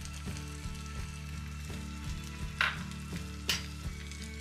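Tender vegetables with tomato and a teaspoon of sugar frying in a pan, a steady close sizzle with a few brief stirring scrapes, no voices.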